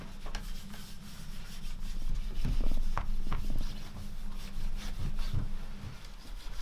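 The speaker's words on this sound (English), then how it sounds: "I'm going to give it another polish just to buff it up a little bit more." Cloth rubbing and buffing over a wooden vintage chair, a steady dry friction sound with repeated strokes, close and moderately loud, no voices.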